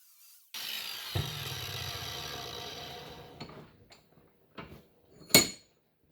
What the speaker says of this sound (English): let's try the wire wheel again